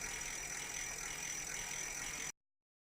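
A 48V 1500W ebike conversion hub motor runs on test with a quiet, even mechanical whir and faint gear ticking, holding steady until it cuts off abruptly into silence.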